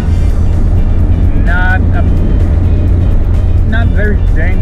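A motorsport car engine running lean sounds as a loud, steady droning rumble throughout, with someone talking over it.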